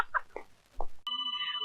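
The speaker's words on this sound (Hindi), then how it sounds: "लेकिन ये दिल की घंटी नहीं, मोबाइल की घंटी है।" A mobile phone ringtone cuts in abruptly after a man's speech, a steady, loud electronic ringing tone that carries on to the end.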